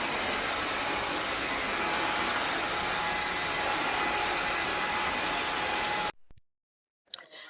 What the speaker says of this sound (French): Je vais passer l'aspirateur partout